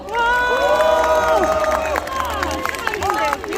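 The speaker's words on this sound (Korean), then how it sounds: "힘찬 박수 부탁드리겠습니다" A political rally crowd claps and cheers in a dense, continuous roar of applause and shouts, with a voice over a loudspeaker talking over it.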